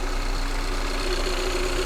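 A car engine with a cylinder misfire runs at idle during diagnostics, a steady close mechanical hum with an even drone and no talk over it.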